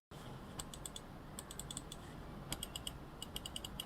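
Side buttons on a 2E HyperSpeed Lite gaming mouse give crisp, light clicks in quick clusters of two to five, close and clear over a quiet background hiss.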